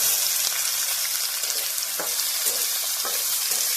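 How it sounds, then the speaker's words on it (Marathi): Chopped onion fries in hot oil with mustard seeds and cumin, giving a close, dense sizzle with occasional sharper pops and stir scrapes, steady throughout with no voices. "मोहरी तडतड करली, थोडी जिरे टाकते, त्यात कांदा टाकते चिरला"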